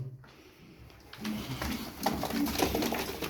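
Pigeons coo softly amid a cluttered background of rustling and shuffling, the low murmuring calls blending together at moderate distance.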